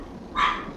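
A single short, sharp dog bark from the video game Vindictus rises briefly over low background game noise.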